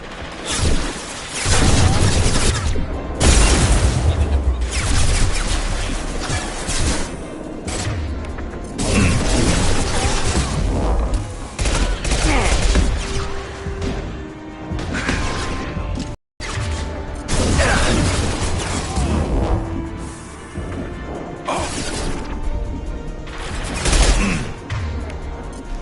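Mass Effect 2 combat gunfire bursts out in repeated loud volleys and impacts, with heavy booms and mechanical clatter between shots and occasional voices in the mix.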